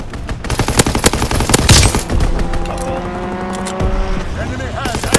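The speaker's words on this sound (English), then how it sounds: "Enemy strafing run inbound." An enemy aircraft strafes the ground in Call of Duty WW2, with dense, continuous machine-gun fire and bursts of shots mixed with engine roar and battle noise, loud and close throughout.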